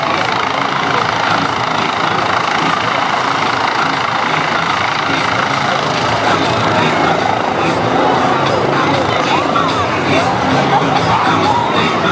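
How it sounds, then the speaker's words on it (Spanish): A Guardia Civil helicopter runs loudly and steadily throughout, its rotor and engine roar mixed with crowd noise and people talking at a public event. "tenemos el servicio aéreo que ha venido con el helicóptero"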